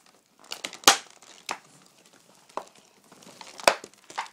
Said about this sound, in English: It's just me ripping a nice gun out of a box.